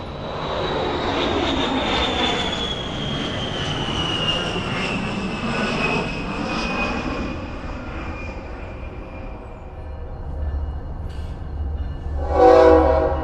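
An A-10 military jet passes overhead with a loud roaring engine and a high turbine whine that slowly falls in pitch as it recedes, followed by a short thump near the end.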